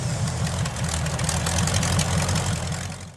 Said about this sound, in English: It gets a little loud when you get into the throttle, but it idles around just fine